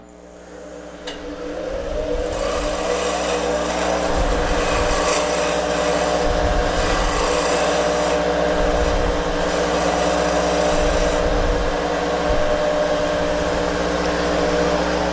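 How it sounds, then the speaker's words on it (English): A roughing gouge cuts the wooden top of a peppermill spinning on a lathe, a loud steady whirring hum and rough scraping that holds constant from start to finish. "So I take the roughing gouge and I just make the top a little smaller"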